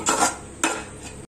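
Sweet corn fried rice is stirred in a pan, two quick scraping strokes of a utensil against the metal with a light sizzle, close and brief, no talking.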